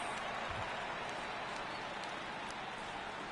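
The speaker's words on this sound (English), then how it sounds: "Now this crowd here at Brooklyn on his feet." A Brooklyn stadium crowd in the MLB The Show 18 baseball game, a dense steady roar of cheering and applause, loud and continuous throughout.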